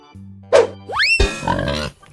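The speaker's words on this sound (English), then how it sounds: "Pig." A cartoonish pig oinks in a short animated animal-sound sequence, a single bright squeal-like grunt with a springy boing-style sweep after it, loud and close with no talking.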